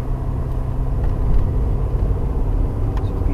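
A Land Rover Discovery Sport accelerating on a snowy road, its engine giving a steady, close, rumbling drone with road noise underneath, sustained and fairly loud with no voices.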